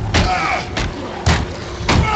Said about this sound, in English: Yeah, punch that door!